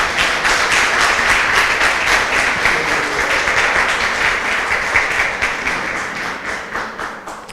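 Steady applause from a crowd at a church wedding, dense clapping that holds for several seconds and tapers slightly at the end.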